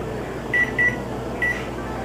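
A kitchen timer on a homebrew setup gives three short electronic beeps as it is set, two close together and one after a pause, over a steady background hum.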